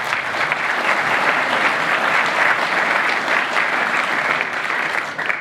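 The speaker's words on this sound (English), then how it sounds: "Thanks for the applause" An audience gives sustained, dense applause at a medal and award ceremony, many hands clapping steadily and loudly throughout without letting up.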